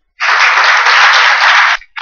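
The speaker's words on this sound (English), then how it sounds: "Let's give him a warm round of applause." An audience at a symposium on food safety in Thailand breaks into warm applause for a speaker, a dense wash of clapping that swells in, holds steady for about a second and a half, then stops abruptly.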